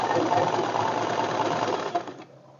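A sewing machine runs in a steady fast whir while stitching stretch knit fabric with elastic for a fitted bed sheet, then slows and stops near the end.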